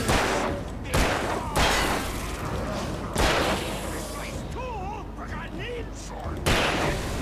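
Gunshots in the video game Alan Wake, several sharp loud blasts at irregular intervals, with someone talking excitedly between them over in-game ambience.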